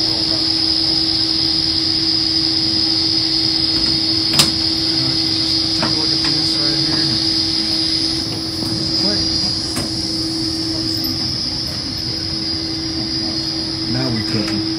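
A boiler running in a mechanical room gives off a steady, unbroken drone with a sustained tonal hum and scattered faint clicks. It stays at an even level throughout, with no voices.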